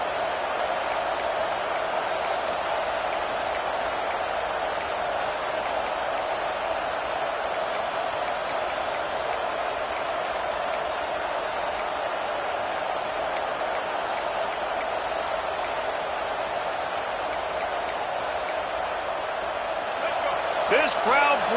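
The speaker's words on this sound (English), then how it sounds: "This crowd bringing the energy and noise early." Steady, loud roar of a football stadium crowd at a Ducks game, a dense wash of noise sustained throughout with scattered higher whistles and shouts rising above it.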